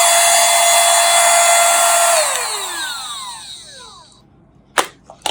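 A mini handheld multifunction vacuum cleaner's motor whirs loudly and steadily, then powers down with a falling whine and fades out, followed by a couple of sharp clicks.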